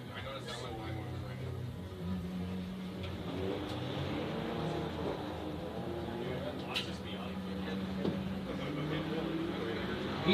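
Drift cars, a Corvette and a white Miata, run a tandem battle at an outdoor drifting event, their engines droning and revving steadily and at a distance for the whole stretch, with crowd noise and a commentator's voice running over them.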